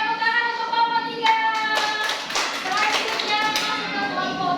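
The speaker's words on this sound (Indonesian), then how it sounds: "tepuk tangan untuk kelompok 3" Classroom clapping for a student group, a burst of hand claps continuing steadily for several seconds under overlapping voices, with a tonal hum running throughout.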